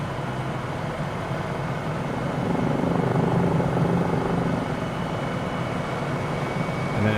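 A helicopter in Microsoft Flight Simulator 2020 drones steadily with a dense, continuous rotor and engine roar that rises slightly midway, no voices.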